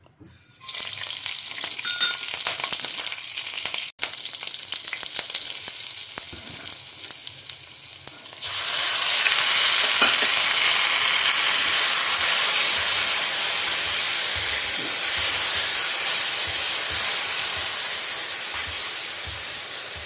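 Mustard seeds, green chili and beetroot fry in hot oil for a tadka for beetroot curd pachadi, a steady close sizzle that swells into loud continuous hissing about halfway through, with light stirring clatter and no talk.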